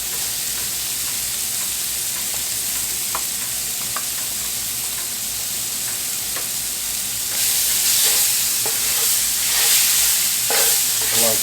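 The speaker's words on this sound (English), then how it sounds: "I'm gonna throw these garlics in here" Garlic dropped into a hot pan with pork steak for a Southern smothered pork steak gives a steady, close sizzling hiss with scattered light stirring clicks, growing louder and busier partway through.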